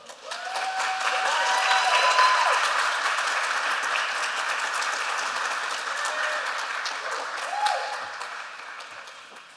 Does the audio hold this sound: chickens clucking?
no